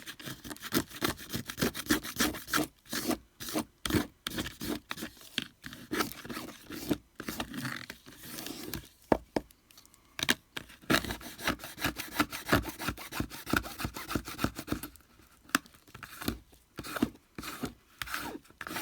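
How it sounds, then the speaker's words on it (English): A scraper being cleaned of leftover acrylic gap filler, with close, repeated rasping scrapes in quick uneven strokes and short pauses, loud and alone without talk. "if you have some left over on the desk, just scrape it off"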